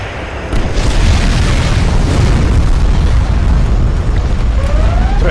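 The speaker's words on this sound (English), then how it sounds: "Rocket artillery, assault!" Rocket artillery firing in the real-time strategy game C&C Generals Contra, a loud continuous roar of launches and explosions blending into one heavy rumbling barrage that fills the whole stretch.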